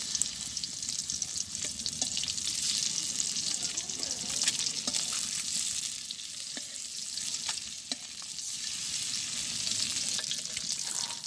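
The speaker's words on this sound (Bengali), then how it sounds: "তো ডিমটা এখন একটু উল্টে দেই।" Duck egg flipped over and frying in oil in a wok in a village kitchen: a steady, close sizzle broken by sharp spatter pops and light stirring clicks, with no speech.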